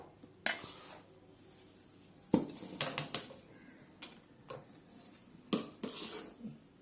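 A metal spoon scrapes and clinks against a pan while ghee-roasted cashews are stirred into a rava and jaggery sweet, giving sharp intermittent knocks and scrapes over quiet background.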